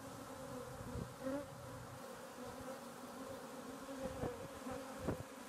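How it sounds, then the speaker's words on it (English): Dense buzzing of many honeybees at rooftop beehives in New York City, a steady droning hum with individual bees zipping past up close, outdoors with no talking. "we've got 6 beehives"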